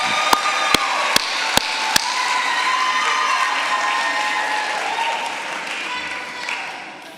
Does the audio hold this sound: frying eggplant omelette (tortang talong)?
no